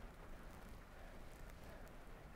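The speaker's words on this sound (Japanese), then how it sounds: "雨です。" Steady, dense rain falls throughout at the rainy Maebashi cyclocross race venue, a constant broadband hiss of drops with no pauses and no voices.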